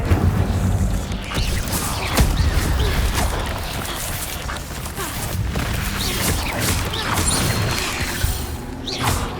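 Fire spell cast in Hogwarts Legacy amid busy combat: continuous whooshing flame and roaring bursts with scattered impacts and crashes, dense and loud throughout.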